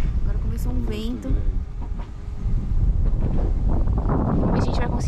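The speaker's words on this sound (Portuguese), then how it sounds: "Agora começou um vento." Wind gusts across a microphone at a lookout above the São Francisco river valley in Piranhas, a loud broadband rumble that builds and persists through the clip, with a voice talking briefly near the start.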